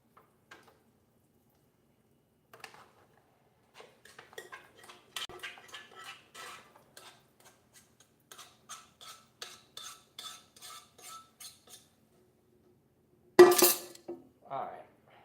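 Pan being washed in a kitchen, with a spoon and cookware clinking and clattering in scattered light knocks, followed by one louder metallic clang near the end.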